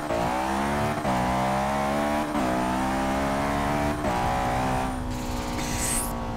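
A 1965 Mini Cooper S with a 700 horsepower all-wheel-drive sleeper build in Forza 6, the engine roaring hard through several rising gear pulls with brief shift dips, loud and close, ending with a faint tire squeal.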